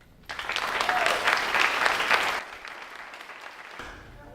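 A group of supporters in the second row of an award-ceremony audience burst into applause and cheers, a loud close clatter of clapping lasting about two seconds before fading to quiet room tone.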